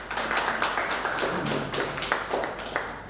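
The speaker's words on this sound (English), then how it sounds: "So big round of applause for all teams." Scattered hand clapping from an audience at the valedictory session of an electric mobility faculty development programme, with irregular claps at close range and steady room noise underneath.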